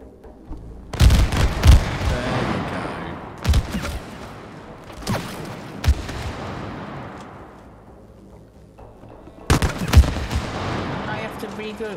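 Gunfire in the co-op video game It Takes Two, sounding as several sharp bursts of shots spaced a few seconds apart, each with a quick decaying tail, fairly close and loud with light background noise between.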